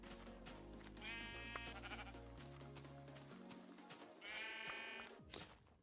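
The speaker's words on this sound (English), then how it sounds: "I get so distracted by sheeps." Sheep in a video game bleat twice, clear and close, over a steady synthesized musical backdrop, with no talking.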